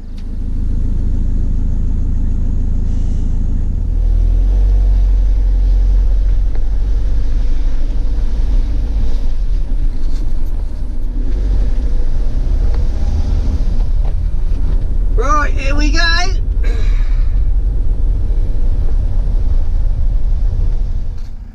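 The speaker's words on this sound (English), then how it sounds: "Just driving out of the campsite." A camper van pulls out of a campsite along Scotland's North Coast 500, its engine a steady low rumble with road and wind noise throughout, and a brief higher whine partway through; nobody speaks.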